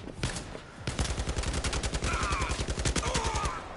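Rapid bursts of assault rifle fire in the VR shooter Blood and Truth, loud and close, with a steady stream of shots and some clattering effects layered over the firing.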